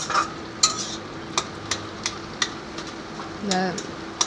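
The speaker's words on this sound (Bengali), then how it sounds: "এবার ঘি দিচ্ছি।" Ghee goes into a hot pan, giving a soft sizzle under repeated clinks and scrapes of a spoon stirring against the metal, with a short burst of bubbling frying near the end.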